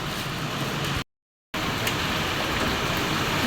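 Heavy rain pours in a steady broadband hiss, close and constant, broken by a brief half-second dropout before the downpour resumes at full strength.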